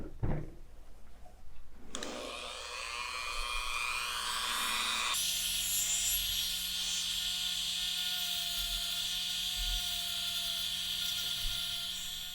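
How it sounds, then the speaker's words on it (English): A Dremel rotary tool grinds on a NECA Warduke action figure. The motor spins up with a rising whine, then settles into a steady, loud, high-pitched drone that runs close by to the end. "let's get the Dremel out"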